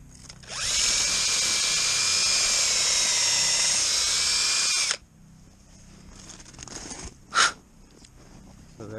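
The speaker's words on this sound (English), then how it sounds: "and then we're going to drill up here" A power drill whines loudly for about four seconds at steady speed boring a tap hole into a maple tree, then stops, followed by quiet rustling and a brief sharp sound.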